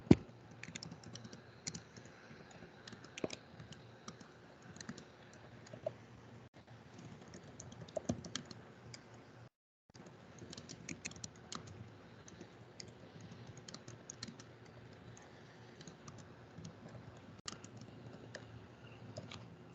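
Quiet typing on a computer keyboard: scattered soft key clicks and short bursts patter along at close range with a brief pause midway, no voice.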